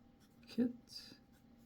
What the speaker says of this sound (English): I'm going to write each one of these down